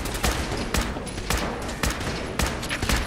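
Gunfire in the video game Fallout 4 sounds as loud, repeated bursts of shots, roughly every half second, dense and punchy throughout.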